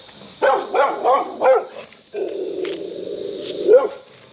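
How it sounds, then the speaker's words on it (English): A dog barks in a quick run of four or five loud, close barks, pauses briefly, then lets out a longer drawn whine that ends in one more sharp bark. "before I almost got attacked by a dog there"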